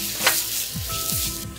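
Flank steak and beef stock sizzle steadily in a hot pan, a continuous close frying hiss with small pops and a couple of low scraping stirs.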